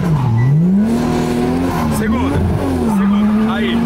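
A Nissan Skyline R34 revs hard while its tires spin and screech, the engine note rising and falling loudly and close up, with people talking over it.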